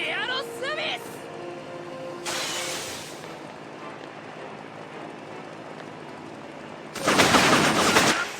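Gunfire in the JoJo's Bizarre Adventure Last Survivor video game: a short rattling burst and a later, louder sustained volley over game background noise, with a voice narrating throughout.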